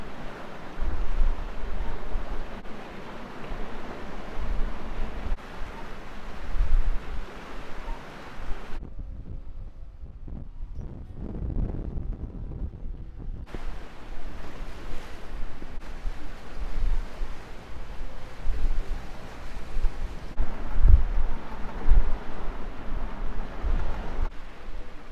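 Steady wind buffeting and sea wash aboard a sailing boat in the lee of a point, rising and falling with a brief calmer lull midway.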